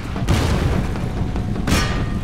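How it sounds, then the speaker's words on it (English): Grenade explosions in Empire Total War during a siege battle, two sharp booming blasts about a second and a half apart over a steady low rumble of battle noise, with no talking. "Just throw a grenade at these guys."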